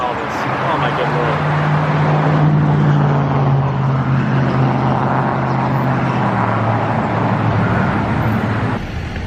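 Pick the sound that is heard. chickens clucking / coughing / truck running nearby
truck running nearby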